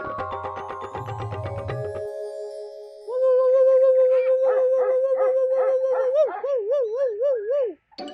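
A man imitates a dog's bark and howl in a comedy series scene, voicing a drawn-out wavering howl with yelping bursts after a stretch of music, loud and close with no other talk.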